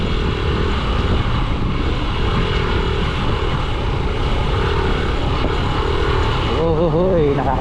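Motorcycle engine on a rural road during a ride, a steady loud drone with wind rush throughout and a passing vehicle near the end, with a rider's voice faintly under it.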